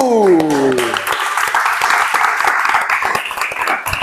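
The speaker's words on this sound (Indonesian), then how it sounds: "Nah, selamat, tepuk tangan dulu." Classroom applause for the top three students in a peer-supervision lesson, as a teacher's voice fades out and a burst of many hands clapping follows, steady and fairly close.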